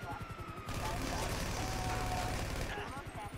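Dense rapid gunfire bursts from Grand Theft Auto V, including a minigun, fill most of the moment with a loud continuous rattle over game noise, with players talking before and after.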